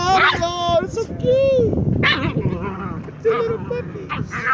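Puppies yipping and barking while scuffling at a dog park, with high whiny yelps and short barks in bursts, close and loud, mixed with excited human talking throughout.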